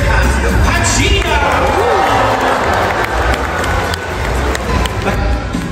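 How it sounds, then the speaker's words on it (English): An aquarium crowd cheers and claps at a dolphin show, a loud, continuous roar of voices with whoops and children's shouts mixed in. "Let's all put our hands together and cheer him on"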